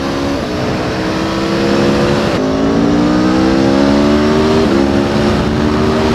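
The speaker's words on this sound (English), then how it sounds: "Listen to that motor." A 2019 Aprilia Tuono V4 1100 Factory engine revs loudly up close, its pitch climbing steadily through the gears in a continuous roar.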